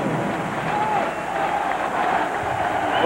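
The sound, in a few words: boxing crowd reacting to new champion announcement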